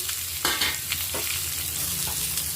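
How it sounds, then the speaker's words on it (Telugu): Onions, urad dal, chana dal, mustard seeds and cumin fry in oil for a bitter gourd and onion stir-fry. A steady close sizzle runs throughout, with a few scraping stirs and no talking. "ఒక టీ స్పూన్ ఉద్దిబెళ్ళు శనగబెళ్ళు కట్ చేసుకున్న ఉల్లిపాయలు వేసుకుందాము"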